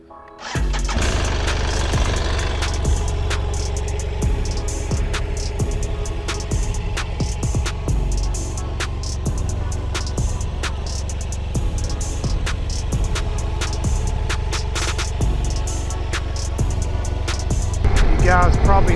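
BMW F800 GSA motorcycle engine running steadily throughout a ride, a continuous low drone with sharp ticks and clatter scattered over it, loud and close.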